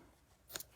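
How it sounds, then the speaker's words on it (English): A pair of scissors makes a single short, crisp snip while trimming the angled ends of paper for a handmade card, briefly and close after near silence. "Now, where are my scissors? I'm just gonna angle the ends."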